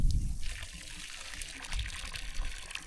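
Glacier meltwater trickling from a water supply beside a closed hotel on the Kanchenjunga Circuit trek, a soft, steady, faint dribble close by with a low rumble at the start.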